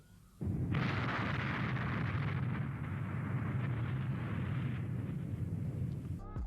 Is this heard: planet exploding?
yes